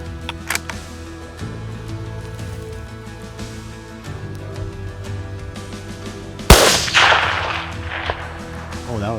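A single sharp, loud gunshot cracks out during a hunt, followed by a brief rustling tail, after several seconds of quiet outdoor ambience with a few faint clicks.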